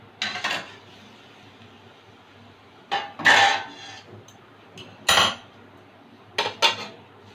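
Metal pan lid lifted off a pan of chocolate fruit cake baking over low heat, a few sharp clanks and scrapes spaced out in quick clusters, near and fairly loud, with no talk.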